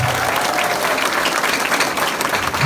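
A large seminar audience applauds in a dense, continuous wash of clapping that holds at an even, loud level for the whole stretch, with faint crowd voices underneath.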